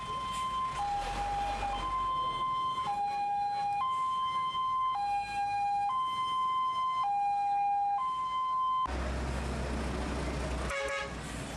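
Fire engine sirens arriving at a house fire, a loud two-tone wail alternating steadily between pitches, followed by a burst of broadband traffic noise with honking as vehicles pull in.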